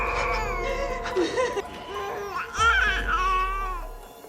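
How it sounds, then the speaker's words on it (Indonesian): A baby cries in wavering, high wails that rise and break, with a harsher outburst midway, fairly close and heard alone without speech. "Mendengar suara bayi menangis"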